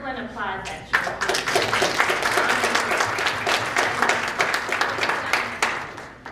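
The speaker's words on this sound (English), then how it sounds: "Let's give the young people an applause" Applause rises from an audience at a corporate town hall, beginning right after a voice and continuing as brisk, even clapping, with a little talk audible under it.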